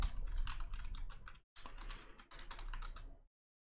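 Someone types an email address on a computer keyboard, a close, quick run of light key clicks in two bursts separated by a brief pause, with no talking.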